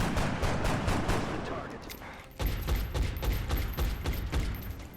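Rapid gunfire in XCOM: Enemy Within as four reaction shots are fired at a Seeker, dense crackling bursts filling the whole span with a brief dip before a louder volley.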